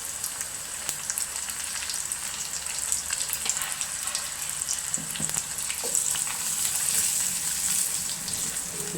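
Chopped onions sizzle and crackle steadily in hot oil in a pan, with chili powder stirred in partway, the frying hiss close and continuous with occasional scraping taps.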